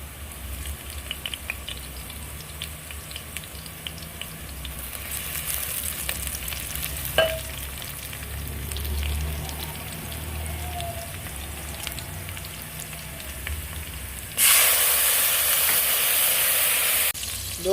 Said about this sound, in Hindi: अब इसमें हम लहसुन डाल लेते हैं।